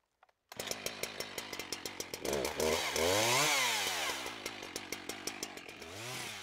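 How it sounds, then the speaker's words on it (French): Chainsaw cutting vertically into the root buttresses of a tree, idling with a rhythmic putter before revving up into loud, sustained cutting that rises and falls, then drops back to a pulsing idle. "Scier les empattements verticalement en s'arrêtant à la taille horizontale."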